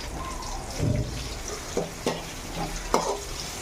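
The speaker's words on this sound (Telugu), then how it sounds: "ఇవి కొద్దిగా ఫ్రై అయ్యే వరకు మనము రోస్ట్ చేసుకోవాలి." Onions and green chillies fry in a pan, sizzling throughout with a few sharp scraping knocks of a spatula stirring them, close and fairly loud, with no speech.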